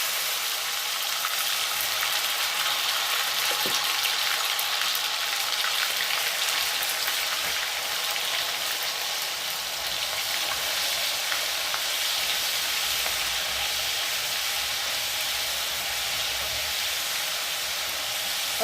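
Cumin, mustard seeds and garlic paste frying in hot oil, a dense continuous sizzle and crackle heard up close and loud throughout, with no voices.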